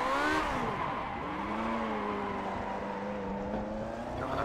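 A race car brakes hard on a Nürburgring straight. Its engine note slides downward while tires squeal, making one loud, continuous burst with no voices.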